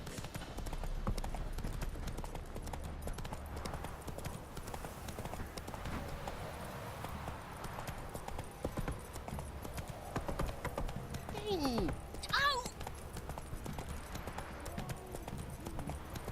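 Horse hooves clip-clop steadily at a walking pace in The Witcher 3 video game, continuing throughout beneath game music and ambience, with a brief whinny-like cry partway through.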